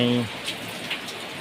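Steady rain hisses down around a car, a dense, even wash of drops with a few louder splats, after a brief tonal sound fades at the start.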